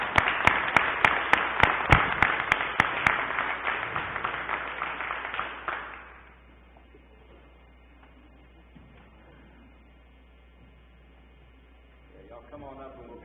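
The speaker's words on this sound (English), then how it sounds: "Let's all give him a round of applause." Audience applause at a county commission meeting, loud, dense clapping with a few sharp claps at the start, fading out after about six seconds into quiet room noise with faint voices near the end.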